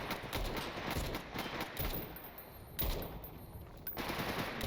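An M1 rifle fires in the game Stalker, with bursts of loud, close shots in quick succession separated by brief gaps.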